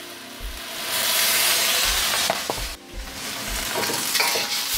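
Beef chow fun rice noodles with a dash of soy sauce are stir-fried over high heat, giving a loud, steady sizzle with a few sharp clatters from tossing and stirring, no voices.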